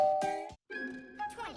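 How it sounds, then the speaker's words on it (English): A cartoon doorbell rings with two bright tonal chimes, a ding then a longer dong after a short gap, clear and close. "Real guests always ring the bell."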